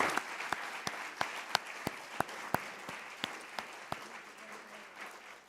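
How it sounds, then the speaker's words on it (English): An audience at a symposium marking the 80th anniversary of the war's end applauds, a steady wash of clapping with sharp individual claps standing out, fairly close and fading toward the end. "Round of applause."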